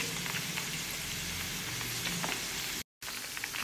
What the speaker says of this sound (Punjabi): ਹੁਣ ਆਇਲ ਦੇ ਵਿੱਚ ਆਪਾਂ ਜੀਰਾ ਤੇ ਕੜੀ ਪੱਤਾ ਪਾਵਾਂਗੇ ਇਹਨੂੰ ਜੀਰੇ ਨੂੰ ਤੇ ਕੜੀ ਪੱਤੇ ਨੂੰ ਥੋੜਾ ਪੱਕਣ ਦਾਂਗੇ